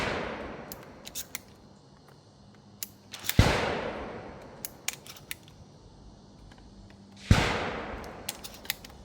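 A GForce Arms GFPG3 12-gauge pump-action shotgun firing in a timed drill: two loud sharp blasts several seconds apart with long ringing decays, and quieter mechanical clicks and clacks of handling and cycling between shots.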